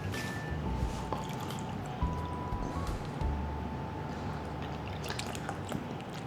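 Fresh milk pours into a bowl of mashed bananas for banana bread batter, a soft steady liquid trickle with faint drips, close and quiet, with no talking.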